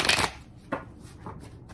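Tarot cards are shuffled in a quick riffle, followed by a few soft, separate flicks and taps.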